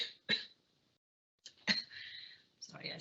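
A conference speaker coughs and clears their throat in a few short, harsh bursts, one alone and then two more separated by brief pauses, close to the microphone.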